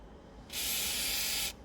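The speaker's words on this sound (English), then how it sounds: "we can use a little bit of WD-40 just to loosen it up a touch" A one-second burst of WD-40 sprayed onto a bicycle front wheel during a strip-down, a loud steady aerosol hiss that starts and stops abruptly, with no talking.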